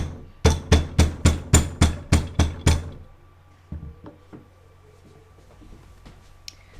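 A rubber mallet strikes metal held in a vice, eight sharp, evenly spaced blows in a quick loud run, followed by a few faint scattered knocks and handling sounds.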